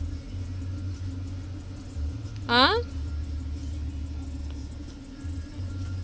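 Low, steady interior rumble of a car idling in a drive-through line, faint and continuous beneath a brief, rising voice near the middle.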